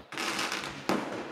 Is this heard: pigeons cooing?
no